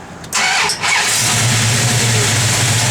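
A 1970 Plymouth Barracuda with a mild cam cranks briefly, then fires and settles into a loud, steady idle close by, with no talk over it.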